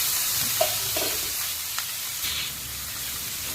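Onion and tomato fry in a pan with a soft, even hiss close by, with a few faint clicks of a spoon stirring and no voices.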